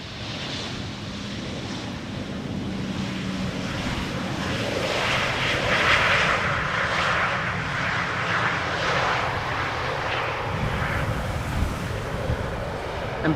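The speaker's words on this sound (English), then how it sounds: "Embraer 190," An Embraer 190 airliner of German Airways landing at Schiphol Airport, its engine roar steady and broad from start to finish, with wind noise mixed in.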